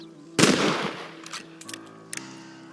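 A single loud rifle shot cracks out in a Red Dead Redemption scene, a sharp broadband burst that rings briefly, followed by a few fainter clicks and clanks of handling against a steady low background.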